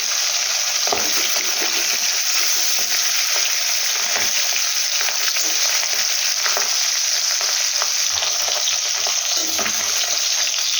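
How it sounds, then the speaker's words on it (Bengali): Pabda fish fry in hot oil in a pan with a loud, steady sizzle and spatter that runs unbroken the whole time, with scattered crackles and occasional faint knocks. "খুব সাবধানে মাছগুলোকে ভাজা করতে হবে"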